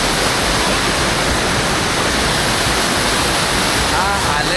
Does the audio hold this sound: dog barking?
no